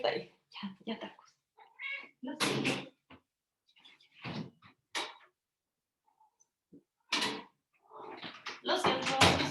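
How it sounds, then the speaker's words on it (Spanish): Tarkus, a pet cat, meows several times in short bursts alongside someone speaking Spanish, with a few knocks and rustles in a quiet room. "ese es Tarkus, mi gatito"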